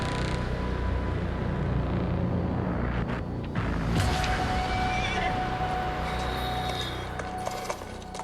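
A horse whinnies amid a dense, loud game-trailer soundscape from a Ubisoft E3 2018 conference, with rumbling low sound and shifting tones beneath; no one talks over it.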